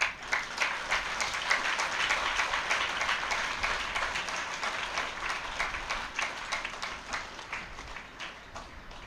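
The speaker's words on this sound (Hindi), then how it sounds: "पांचवें पे ताली बजाई है" Audience applause at a spiritual talk, a dense steady patter of many hands clapping that holds for several seconds and then gradually thins and fades toward the end, with no voices over it.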